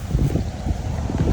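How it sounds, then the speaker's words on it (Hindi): Wind blowing outdoors across village fields, a steady low rumble of gusts buffeting the microphone, continuous and fairly loud, with no talk. "कितनी अच्छी हवा चल रही है।"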